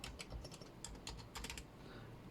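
Close-miked typing on a Razer Huntsman V2 with red switches: a quick, uneven run of crisp key clicks in short bursts, then a brief quiet gap, with no talking.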